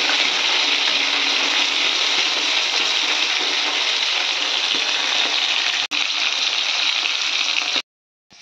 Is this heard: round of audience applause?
no